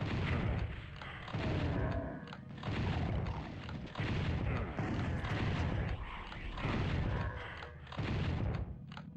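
Shotgun blasts from enemies in Final Doom running on an original PlayStation, landing as heavy booming bursts roughly every two seconds, loud and close with a rumbling tail and no talking.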